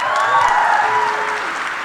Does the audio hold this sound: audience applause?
yes